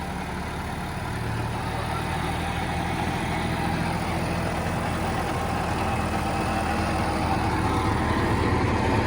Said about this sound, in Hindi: फिर भी ट्रैक्टर चला रहा।